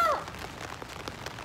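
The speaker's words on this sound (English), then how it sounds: "so it's raining." Rain falls steadily outside, a soft even patter at moderate level with faint scattered drops and no talking.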